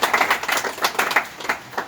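A crowd of farmers claps for themselves at a gathering, a dense run of brisk, overlapping handclaps forming steady applause close by.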